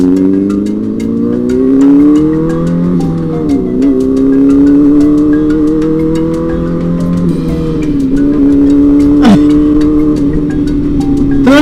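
A racing-spec motorcycle fitted with a Power Commander fuel controller revs hard and loud up close, its engine note rising and falling through sustained throttle sweeps with a few sharp blips.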